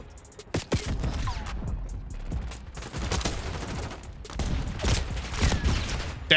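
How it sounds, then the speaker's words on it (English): Bursts of hand cannon gunfire in Black Ops 6, loud, sharp repeated shots with layered game effects and some overlapping blasts. "I'm gonna use the hand cannon because I have it."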